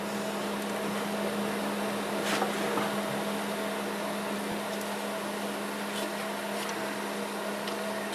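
A wood lathe cuts a bowl out of a turning blank, giving a steady, close mechanical drone with a constant low hum that runs unbroken the whole time.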